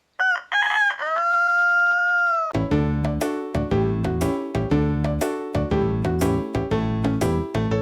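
Cartoon chicken in a video game about a crooked house, a rooster crow rising over two seconds then giving way to rhythmic clucking over loud, bouncy game music.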